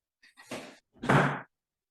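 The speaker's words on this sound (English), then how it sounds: "Please close the door." A door being closed: two close, distinct thuds, the second louder and fuller, with silence before and after.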